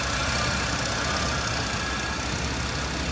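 The engine of a 1982 Imperial, back running after 27 years, idles smoothly and steadily, a continuous low even hum heard close up with no voices over it.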